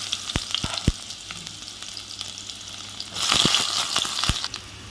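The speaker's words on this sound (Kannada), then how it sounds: "ತೆಂಗಿನ ಎಣ್ಣೆ ಕಾದಿತ್ತು, ಇದಕ್ಕೆ ನಾನು ಹಚ್ಚಿಟ್ಕೊಂಡಿರುವಂಥ ನೀರುಳ್ಳಿ ಹಾಗೆ ಬೆಳ್ಳುಳ್ಳಿ ಎರಡೂ ಒಟ್ಟಿಗೆ ಹಾಕ್ತೆ." Chopped onion and garlic go into hot coconut oil together and sizzle steadily, with a few sharp clicks and spatula knocks early on and a louder, denser burst of frying midway through.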